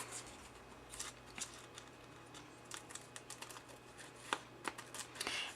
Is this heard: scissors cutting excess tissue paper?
yes